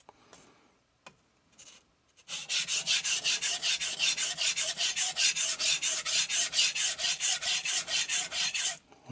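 After a few faint scrapes, a Tojiro Kiritsuke knife blade rasps steadily back and forth across an Arashiyama 1000-grit whetstone in an even rhythm of quick strokes, close and clear.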